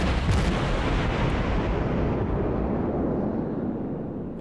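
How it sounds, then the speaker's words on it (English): A warship in World of Warships fires a full artillery salvo, producing a loud, dense, continuous roar of booming blasts that slowly tails off with no talking. "One salvo."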